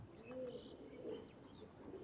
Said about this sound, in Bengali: এজোড়াও টেডি কবুতর ভাই